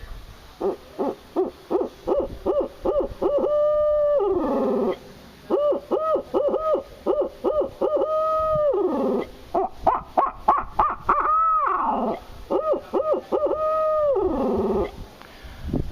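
Owl-like hoots imitated by a person blowing through cupped hands, repeated in quick rhythmic bursts with short pauses between phrases, close and clear.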